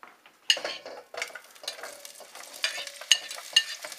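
Chopped onions hit hot oil in a pan, about a tablespoon of oil, giving a soft crackling sizzle with irregular pops and stirring scrapes, fairly quiet and close, no voices.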